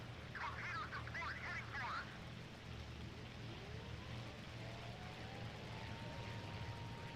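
Torpedo bombers in Task Force Admiral fly low over a carrier flight deck, a droning engine rumble with a rising whine that sweeps past, mixed with brief chattering bursts early on.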